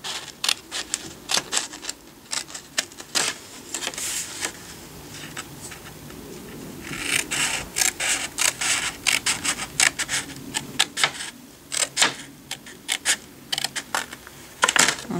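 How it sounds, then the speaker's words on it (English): Scissors cut through a sheet of paper to make a card, giving a series of close, crisp snipping and rasping strokes in uneven bursts. "so I'm going to cut right on this line"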